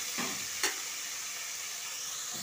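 Minced chicken frying in hot oil for fried rice, a steady close sizzle with a couple of brief stirring scrapes, no voices.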